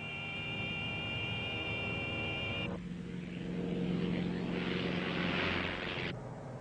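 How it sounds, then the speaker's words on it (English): An aircraft stall warning device sounds in flight in a 1974 FAA training film: a steady high-pitched tone holds for nearly three seconds over the drone of the engine and wind, then cuts off, leaving the engine roar alone. "One way is from the stall warning device in the aircraft."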